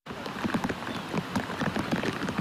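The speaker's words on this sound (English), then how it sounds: "are trying to avoid all the rain that we're having right now" Steady rain falls during an outdoor charity run by police officers, a continuous hiss of drops with soft irregular patters on the ground, fairly close and even throughout, with no talk.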